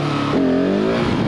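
Motorcycle engine revving through first and second gear for a wheelie, a short burst of rising engine tone that steps up as a gear changes partway through.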